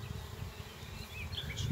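Honeybees buzz in a steady, soft, continuous drone while a Dadant beehive is open for inspection, with faint higher whines of individual bees passing near, no talking.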